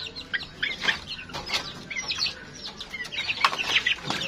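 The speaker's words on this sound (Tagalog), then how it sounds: "Napakagandang mga manok na to." Chickens cluck in repeated short bursts at close range, with occasional wing flapping among a flock of fine-looking fowl that includes growing young birds, busy and continuous with no talk.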